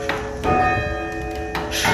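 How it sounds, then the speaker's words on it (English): Church bells ring in an old abandoned church bell tower, with a metallic strike near the start, a clear strike that hangs and sustains for about a second, then a further strike at the end. "we're gonna ding some bells and make some noise"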